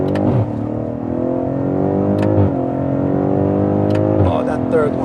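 A BMW F90 M5 with xDrive pulls hard on an open road, its engine rising through the gears with climbing pitch, quick shift breaks, and excited voices inside the cabin.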